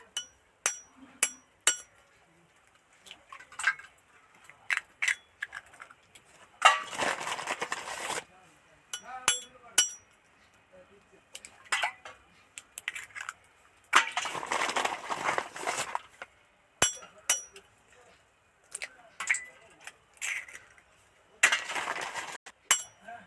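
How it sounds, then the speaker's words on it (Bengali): Three eggs are cracked against a bowl for a potato egg pakora batter, giving crisp taps and shell clicks in quick clusters, separated by louder bursts of kitchen noise and a speaking voice. "একটা বল নিয়ে নিয়েছি এবার তিনখানা ডিম ফাটিয়ে নেবো"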